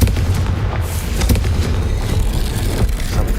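A Confringo fire spell explodes in Hogwarts Legacy, a loud, deep, rumbling boom with a few sharp cracks on top, booming heavily right from the start and fading only slowly over a few seconds.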